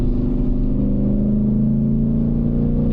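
Ford Mustang engine droning loud and steady from inside the car while driving on slippery snow, a continuous low rumble with no talking.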